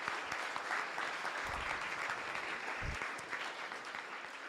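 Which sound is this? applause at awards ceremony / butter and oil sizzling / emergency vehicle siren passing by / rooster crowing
applause at awards ceremony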